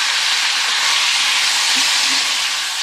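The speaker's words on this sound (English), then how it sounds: "Now saute. Ensure all sides are seared nicely." Pieces of wood pigeon sauté and sear in a pan, a steady, close, broadband sizzle hissing evenly and loudly without pause.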